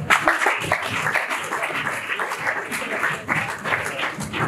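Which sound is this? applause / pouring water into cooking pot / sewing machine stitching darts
applause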